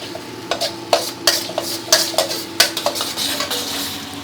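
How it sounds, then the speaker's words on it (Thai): Metal utensils scrape and clatter rhythmically against a wok over a low sizzle, stir-frying oyster sauce in hot oil, a quick run of stirring strokes close by. "นี้เราผัดน้ำมันหอยกับเครื่องปรุงของเราครับให้โดนกระทะน้ำมันร้อนๆสักครู่นะครับ"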